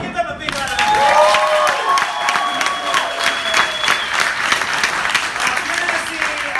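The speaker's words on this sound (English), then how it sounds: "Give them a big round of applause." Audience at an improv comedy show applauds a class of performers, dense sustained clapping and some cheering filling the room, loud and steady throughout after a brief quieter start.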